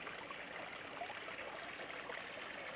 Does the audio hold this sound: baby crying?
no